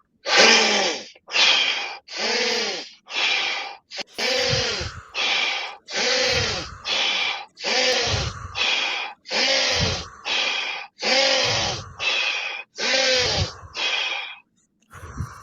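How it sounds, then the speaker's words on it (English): Forceful, rhythmic breathing drawn in through the nose and pushed out through the mouth repeats about a dozen times in quick, even cycles, close and loud with short gaps between breaths. "We're gonna go in through the nose, out through the mouth for 15 seconds on me."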